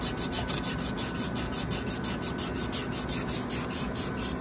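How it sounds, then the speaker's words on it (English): Rhythmic back-and-forth rubbing of lapping film against the metal inner source enclosure of a Waters QDA mass spectrometer, a close, steady rasping hiss repeating several times a second with no talk. "now to just polish it up with the lapping film"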